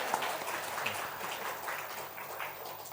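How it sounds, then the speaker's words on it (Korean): Congregation applause during a Sunday church service, a soft, steady patter of many hands clapping, fairly distant and even throughout. "박수로 한번 격려하겠습니다"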